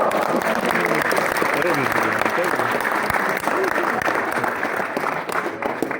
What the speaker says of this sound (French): Et on peut les applaudir très fort